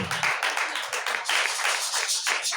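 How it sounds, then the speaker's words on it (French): Church congregation clapping hands during worship, a brisk wash of many hands at a quick, roughly steady rhythm, close and lively throughout. "je vais te voir applaudir pour le Seigneur"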